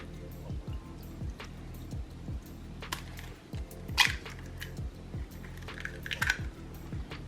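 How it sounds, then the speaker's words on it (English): Two-percent milk pours into a pan holding sauce with hot sauce, a soft continuous trickle with a few faint clinks, quiet and close. "So we're going to go ahead and pour in"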